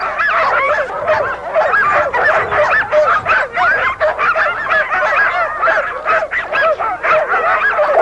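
A team of sled dogs barks and yips excitedly in cold weather before a sled pull, a dense, continuous chorus of overlapping barks close by with no speech.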